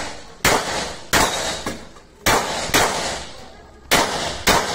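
A rapid series of sharp, loud explosive bangs, about seven in under five seconds, each with a crackling, echoing tail, close by.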